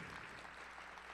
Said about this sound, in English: Go ahead, clap for him.